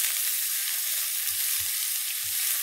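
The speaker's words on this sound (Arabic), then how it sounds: "على جنب الطاسة راح أقلبهم مع بعض بهذا الشكل" Sausages and sliced colored and hot green peppers sizzling steadily in a frying pan, with a few soft low thumps of stirring and turning the food, no talking.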